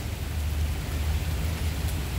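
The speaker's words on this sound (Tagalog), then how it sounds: "Ayan o, lumakas ang ulan." Heavy rain pours steadily in Tsing Yi Northeast Park in Hong Kong, a dense continuous hiss with a deep low rumble, loud and unbroken, with no voices.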